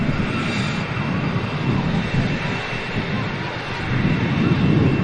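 A British-registered Cessna light aircraft taxiing past at Manchester Airport, a steady, fairly loud engine drone with broadband wind-like rush that holds throughout and swells slightly toward the end.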